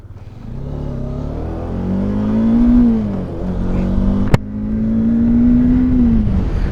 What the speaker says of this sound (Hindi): कुछ नहीं कर रहा हूँ मैं, न्यूट्रल पे है गाड़ी, अपने आप ये चला जा रहा है